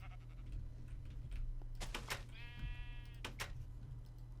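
A Minecraft sheep lets out a couple of short bleats in a game world, moderately loud over a steady low background hum.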